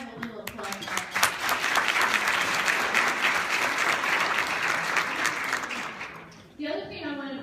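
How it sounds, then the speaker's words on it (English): An audience claps at a legal update presentation, a full burst of sustained applause that fades near the end, followed by a voice speaking. "let's have a little applause for that"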